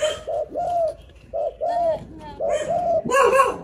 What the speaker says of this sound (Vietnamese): À, con cu gáy hay quá chú chị ơi.